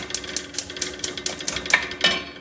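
Chopped onions go into a pan for a chicken dopiaza, giving a steady run of rhythmic scraping and stirring taps with a light sizzle underneath, close by.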